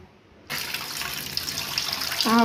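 Water poured into a cooking pot of tomato rasam, starting abruptly as a continuous splashing rush that swells near the end, with no talking.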